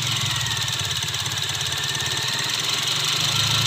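A Toyota Vios with a misfiring, rough-running engine and a non-working injector turns over and settles into a steady, loud idle with a low rumbling pulse that carries on throughout.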